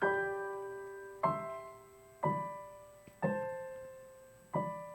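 Soft high piano notes played with the sustain pedal, struck one at a time at a slow, free rubato pace, each ringing on and blending into the next with sustained resonance.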